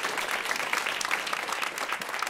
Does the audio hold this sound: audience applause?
yes